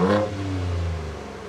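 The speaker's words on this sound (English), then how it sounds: "this has a 3-litre petrol V6" A Ford Ranger Raptor with a 3-litre petrol V6 gives a short, close rev, a deep engine note swelling briefly and then easing back.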